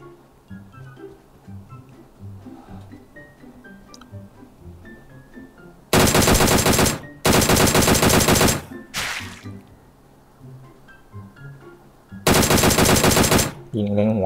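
Automatic gunfire in the PUBG Mobile zombie mode, with loud sustained bursts of rapid shots, three long volleys and a short one, over quieter game music and effects.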